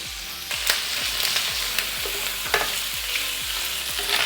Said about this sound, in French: on va venir tremper chaque morceau généreusement dans l'huile et les placer sur le grill